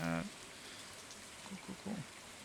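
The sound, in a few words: rain falling in the video game Stardew Valley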